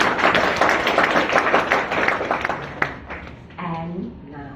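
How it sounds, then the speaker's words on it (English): An audience at a Toastmasters training event claps in a dense, rhythmic burst of applause that fades out, followed by a voice speaking. "give him a big round of applause"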